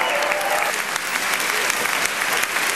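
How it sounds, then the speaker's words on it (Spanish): A church congregation bursts into loud, sustained applause, dense and steady clapping from a large crowd throughout. "Denle fuerte el aplauso a Jesucristo, hombre de las naciones"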